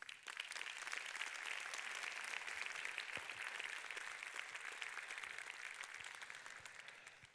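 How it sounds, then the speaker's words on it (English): Audience at a Centre Party congress in Malmö applauding a speaker. The dense, steady clapping is loud and continuous from start to finish. "So please applaud yourselves for everything that you do"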